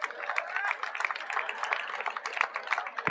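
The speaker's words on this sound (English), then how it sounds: "So I want to give a round of applause, everyone, for them" A crowd at an outdoor groundbreaking ceremony for Parkland Plaza in West Louisville claps steadily, a moderately loud, even patter of many hands lasting several seconds.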